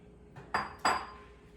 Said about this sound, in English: I'm going to put the egg whites into the mixer bowl